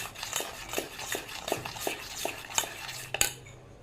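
A spoon stirs biscuit cake batter in a bowl, tapping and scraping the sides in a quick, fairly regular rhythm of light clinks, close and soft, ending with a sharper knock.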